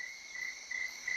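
A cricket chirps very close by, its shrill pulsed trill repeating in steady bursts against a quiet background with no talking.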